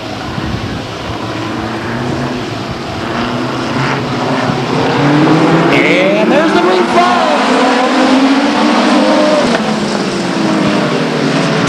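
Race cars at Stockton 99 Speedway, the short oval in 1999, roar loudly and continuously in a pack behind the leader, with engine tones rising and sweeping as they pass, under constant announcer commentary.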